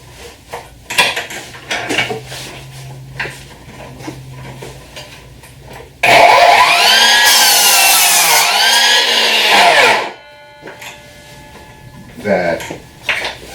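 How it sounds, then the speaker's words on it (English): A Ryobi P3650 10-inch cordless sliding miter saw makes a miter cut with a loud, sustained whine that rises and dips for about four seconds before spinning down, preceded by clattering handling noises and followed by more. "Do a miter cut."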